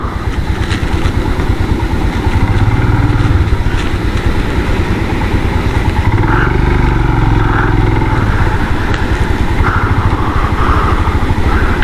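A motorcycle engine runs loud and close on a muddy mountain track along the Adi Kailash route, a steady throbbing idle with slight rises in revs and no break.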